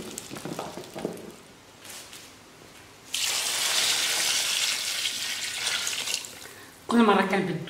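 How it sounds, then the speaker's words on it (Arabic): Water pours and splashes steadily for a few seconds while fresh water replaces the old brine on curing olives, preceded by quiet talk and followed by a short burst of closer splashing. "كل مره كنبدلوا الماء ديالو كنديروا الماء جديد"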